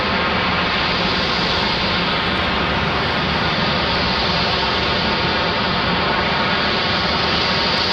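A Spirit Airlines jet departing Raleigh Durham airport, a loud, steady broadband engine roar that fills the whole stretch with no talk.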